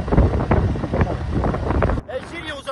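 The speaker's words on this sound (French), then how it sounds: "Oh, Gilles, il y a du vent!" Strong wind buffeting a microphone outdoors, a rough low rumble with gusty bursts under someone shouting, dropping away abruptly near the end.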